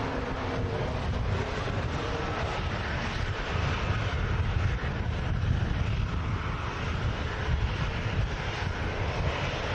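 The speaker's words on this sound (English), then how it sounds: "Airbus A320 Neo touching down." An Airbus A320neo touches down at Manchester Airport, a steady, moderately distant engine roar mixed with wind buffeting on the microphone, continuous with no clear peaks.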